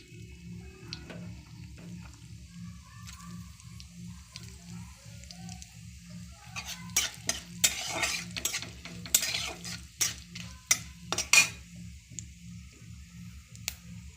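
Mustard seeds and fennel seeds fry in hot oil, starting with a low hum and soft sizzle, then breaking into a burst of sharp, scattered pops and crackles before settling again.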